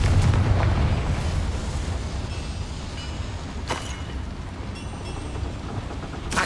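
Confringo fire spell in the video game Hogwarts Legacy, heard as a heavy rumbling blast that fades into a low roar, with a sharper burst partway through.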